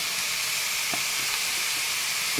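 Poppy seed paste frying in a pan for a drumstick-flower bhorta, giving a loud, continuous sizzling hiss with a few faint ticks and pops, close up and without speech.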